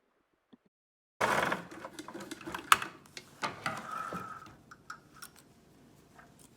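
A sewing machine stitching cording onto a bolster pillow cover starts after a second of silence, a close, irregular mechanical clatter with ticks and clunks that gradually fades toward the end.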